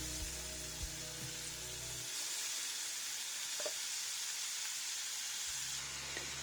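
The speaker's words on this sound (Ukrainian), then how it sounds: "До розігрітої сковорідки додаємо трохи олії і відправляємо нарізану цибулю" Chopped onion sizzles in oil in a hot frying pan, a steady close hiss with a low hum underneath and a few faint clinks, with no talking.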